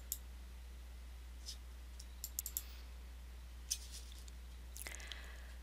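A few faint, sharp computer mouse clicks spaced apart over a steady low electrical hum, with a slightly louder click near the end.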